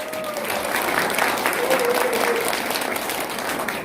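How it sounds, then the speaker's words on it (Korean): Warm audience applause welcoming commentator Jung Kyu-jae to the stage at a Liberty Korea Party Gangnam district briefing, a steady crowd of clapping with brief speech over it. "우리 정규재 대표님 뜨거운 박수로 모시겠습니다"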